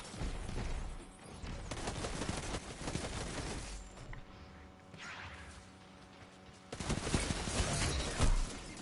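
Rapid bursts of Cerberus auto rifle gunfire in the Destiny 2 campaign, loud and close, firing in the opening seconds, pausing, then resuming near the end amid other game sounds.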